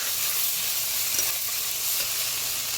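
Spice paste sizzles steadily in a pan as it is sautéed for a Bengali dish of Malabar spinach and rohu fish, a dense, even hiss that holds at one level throughout with no voices.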